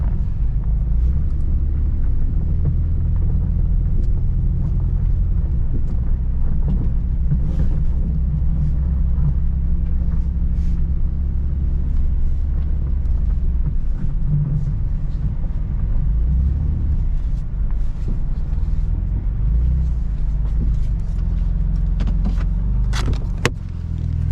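A wrecked Chevrolet Blazer drives along with its exhaust chopped off, giving a loud, steady, deep engine rumble and drone that continues unbroken throughout, with no talking.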